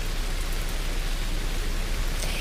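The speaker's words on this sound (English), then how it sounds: "we still have this rain that has been just continuous throughout the morning" Steady, continuous rain falls outdoors near a road during a morning news report, a dense broadband hiss with no talk and no distinct individual drops.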